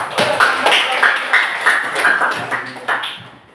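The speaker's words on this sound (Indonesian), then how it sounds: "Tepuk tangan untuk kelompok 4." A classroom of students applauds a student group after its presentation, with loud, close claps falling in a fairly regular rhythm, some ringing tones mixed in, before the clapping tapers off.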